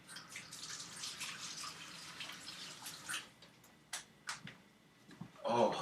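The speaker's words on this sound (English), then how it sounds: "I'll wash my hands real quick." Hands washed under a running tap, a steady wash of water with soft splashes that swells louder near the end, heard alone without talk.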